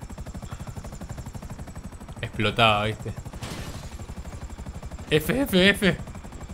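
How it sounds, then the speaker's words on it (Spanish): A helicopter in the video game GTA V whirs with a steady rapid rotor chop throughout, while bursts of excited speech break in twice over the top. "Entra con el helicóptero en la zona."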